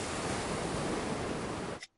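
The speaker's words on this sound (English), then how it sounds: "Wow. I can hear the sea." Cartoon sea waves heard through a seashell held to the ear: a steady, loud, broad rushing wash like surf, lasting nearly two seconds and then cutting off abruptly into silence, with no voices.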